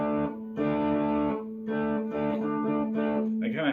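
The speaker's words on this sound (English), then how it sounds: "I'm using my Englishman distortion, which is like supposed to be a Marshall kind of sound." Distorted electric guitar playing barre chords through an Englishman distortion pedal aimed at a Marshall plexi-style tone, in several sustained strummed bursts separated by short gaps, loud and close, with no voices.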